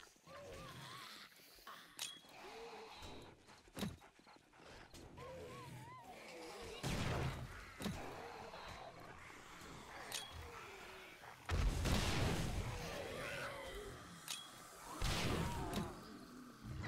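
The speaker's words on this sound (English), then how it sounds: "Throw some grenades." Grenade blasts go off during horde night in a video game, with heavy booming bursts around seven, twelve and fifteen seconds over a constant clatter of game action and scattered smaller hits. A voice talks intermittently throughout.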